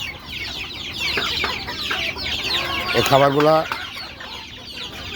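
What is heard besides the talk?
native chicken chicks clucking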